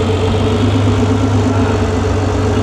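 A Honda NSX idles with a newly fitted aftermarket exhaust, a loud, close, steady low burble with even pulses and no talking over it.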